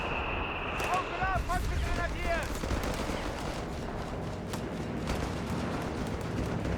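Dense battlefield gunfire from Company of Heroes 3, with machine-gun bursts and scattered shots layered over constant combat noise and a few chirping tones, loud and continuous throughout.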